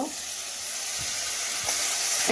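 Water poured into a pan of frying pointed gourd with turmeric, salt and sugar sets off a steady, close sizzling hiss that holds evenly throughout and swells slightly toward the end.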